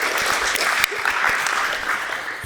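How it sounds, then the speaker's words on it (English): A crowd at a basketball coaching clinic gives a round of applause, a dense steady clatter of clapping hands that carries throughout, loud and close. "A round of applause for Miles, please, legend."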